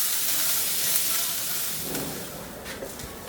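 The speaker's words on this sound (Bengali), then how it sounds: "সেজন্য আমি হাই হিটে ভাজতেছি পেঁয়াজটাকে।" Sliced onions fry in a pan over high heat, giving off a steady, close sizzle and hiss with occasional soft stirring sounds and no talking.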